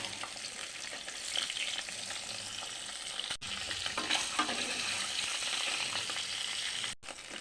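Eggs fry lightly in a pan with a steady, close hiss of crackling oil that holds throughout, with a couple of very brief dropouts.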